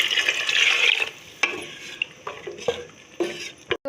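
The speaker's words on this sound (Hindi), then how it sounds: "ये हमारा मसाला अच्छे से भुन गया है, और अब इसमें पानी ऐड करूँगी।" Water pours into a pot of fried masala with a brief sizzling hiss, followed by several distinct stirring clinks and scrapes of a spoon against the metal pot, close and fairly quiet.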